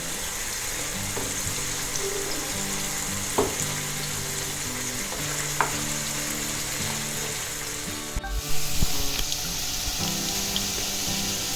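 Kerala-style spicy chicken pieces fry in hot oil, a dense, steady close sizzle that runs throughout, broken by occasional clinks and a brief scrape as pieces are turned.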